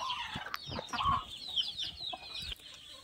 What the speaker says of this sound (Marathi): अशा या टायरामध्ये कोंबड्या जात असतात आणि अंडे देत असतात